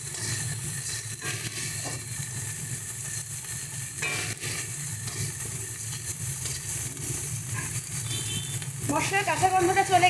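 Masala paste with salt is stir-fried in a pan for a vegetarian coconut-stuffed pointed gourd dish, giving a steady low sizzle with occasional stirring scrapes that grows louder near the end, while someone speaks over it.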